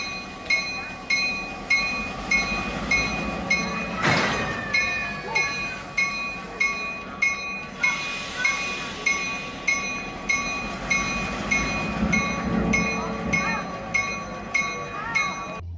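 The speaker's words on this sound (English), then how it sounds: "CF7 couples up to the train we were going to ride" A CF7 locomotive couples up to a train of rail cars at a Kentucky railroad museum: one sharp, loud coupling clank stands out over a steady, rhythmic pulsing of idling diesel engine and rail yard noise.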